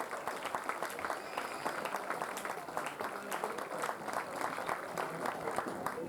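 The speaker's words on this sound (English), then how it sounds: "Give a big round of applause." Steady applause from a crowd at a Newport Gulls versus Keene Swamp Bats summer baseball game, dense clapping held at an even level throughout with no break.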